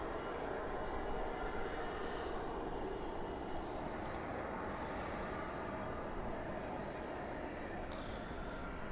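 An airliner rolls out after landing at night at Dallas/Fort Worth International Airport, spoilers up and thrust reversers deployed, giving a steady, loud broadband roar that holds throughout with no break.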